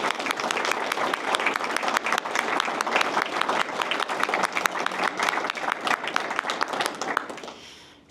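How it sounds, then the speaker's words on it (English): An audience at a poetry contest awards ceremony gives poets a sustained round of applause, dense, even clapping from a crowd that carries on for several seconds before fading out near the end. "can we have another round of applause for all of our amazing poets?"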